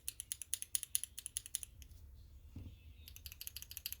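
Mechanical keyboard with Akko Crystal Wine Red switches being typed on: quick, fairly soft clicking keystrokes in fast bursts, a pause with only faint mechanism noise, then typing resumes briskly, close up and alone.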